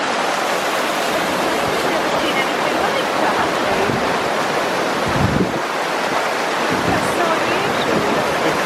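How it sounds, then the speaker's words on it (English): Several waterfalls in the Black Forest rush steadily together in a broad, loud roar of falling water, with some wind buffeting the microphone and no clear voices. "Incredible, there's multiple waterfalls"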